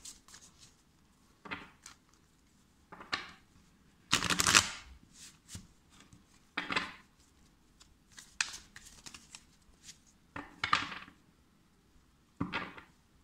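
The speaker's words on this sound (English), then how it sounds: "Let me just shuffle the cards." Bursts of tarot cards being shuffled and riffled, close up, in short irregular bursts separated by quiet pauses; no talking.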